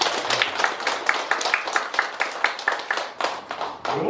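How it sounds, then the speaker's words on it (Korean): An audience at a seminar claps together in a short round of applause, a run of fairly regular, moderately loud hand claps that tapers slightly before a final burst. "우리 같이 한번 박수 한번 보내주시죠"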